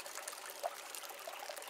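Water streams from the hose of a Liberty Lifesaver survival filter, a faint, continuous, even trickle with small splashes and no talk.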